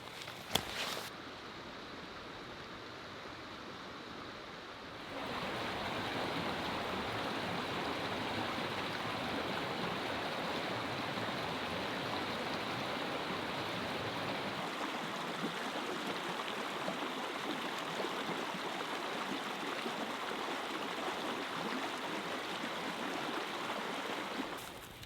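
A creek flows in the Australian bush, a constant rushing burble of water that grows louder and closer after a few seconds, with no voices.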